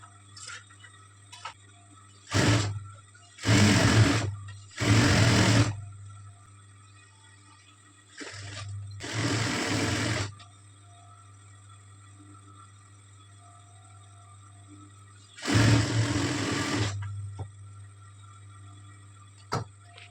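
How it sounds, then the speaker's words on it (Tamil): Electric sewing machine stitching a churidar in a tailoring session, with several short whirring runs of a few seconds each, separated by pauses and a low steady hum. "மறுபடியும் ஸ்டிச் போட்டுக்கோங்க"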